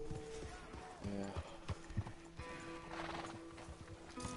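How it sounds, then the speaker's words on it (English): Horse hooves clip-clop in Red Dead Redemption 2 Online, mixed with a neigh and other game sounds while players chat. "Yeah, that's quite cool horse as well."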